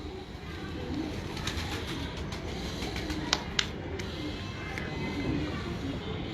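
Soft pigeon cooing against a steady outdoor background hum, with a couple of brief sharp clicks partway through.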